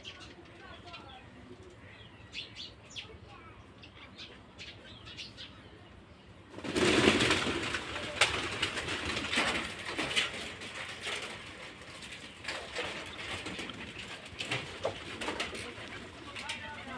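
Pigeons coo softly while feeding on paddy, wheat and maize, then a sudden loud burst of wing flapping erupts; the birds keep fluttering and cooing afterward as a voice talks nearby.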